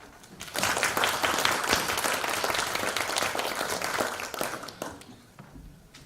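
Warm audience applause welcomes architect Andrew Waugh to the stage, a dense wash of clapping that swells quickly, holds steady for several seconds, then thins out as it fades.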